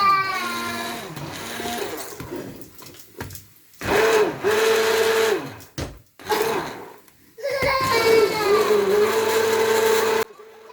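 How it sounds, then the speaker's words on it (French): An immersion blender purées bissara, a fava bean soup, in a pot, its motor whirring in long loud bursts with brief pauses between them. "on va venir bien, bien mixer"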